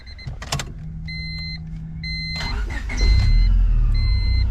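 A supercharged Honda Civic EM1 cranks briefly and catches, settling into a loud, steady idle up close, with an electronic door chime beeping repeatedly before and after the engine fires.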